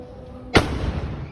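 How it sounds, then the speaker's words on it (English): A noon cannon shot is fired from the top of a tower in Zagreb's upper town. It lands as one sudden loud boom over quiet background hum and fades into a brief rumbling tail. "at noon they shoot a cannon from the top of a tower"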